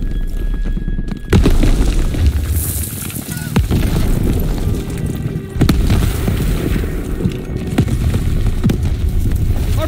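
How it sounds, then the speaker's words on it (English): Artillery shells exploding on a beach during a World War II battle in Call of Duty WW2, with several heavy booms striking amid constant battlefield rumble and background voices. "Artillery's hitting the beach."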